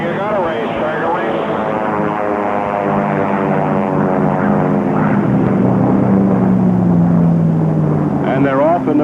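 Beechcraft Staggerwing propeller biplanes race at the 1970 Reno air races, their engines a loud, continuous droning roar with a slowly shifting pitch as they pass, under a race announcer's voice.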